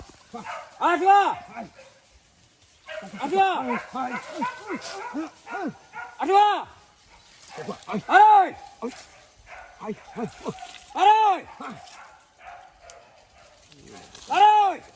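Hunting dogs bark in repeated bursts during a wild boar hunt in the forest, loud and near, with short pauses between volleys and voices calling in the background.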